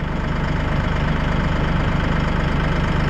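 A Massey Ferguson 1E.40 compact tractor engine idles steadily with a low, even rumble and regular pulsing, loud and close throughout, with no voices.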